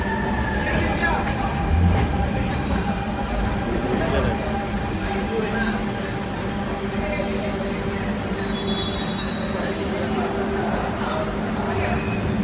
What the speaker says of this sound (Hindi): मेट्रो भी आ गई हम लोगों को, यही है ना।